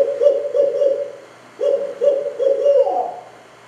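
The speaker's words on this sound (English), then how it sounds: "But that is the barred owl." A barred owl hoots in a forest, a series of loud, clear, rhythmic hoots in two phrases separated by a short pause, close and alone with no talking.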